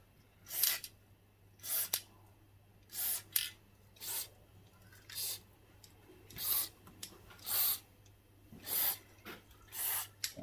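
Penetrating spray from an aerosol can hisses onto rusted bolts of a Suzuki DR200SE farm motorcycle, about ten short bursts in an uneven rhythm, close and crisp over a quiet background, with no talking.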